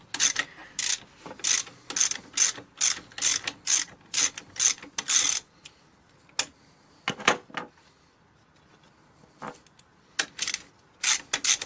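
Ratchet wrench clicking as it turns a 15 mm nut on a Jeep Grand Cherokee WJ steering damper, with rapid bursts of close, sharp ratcheting clicks separated by short pauses.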